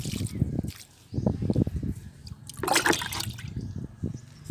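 Water with leftover dosa batter is poured onto chrysanthemum plants in a garden, giving uneven splashing and trickling bursts that come and go, close by.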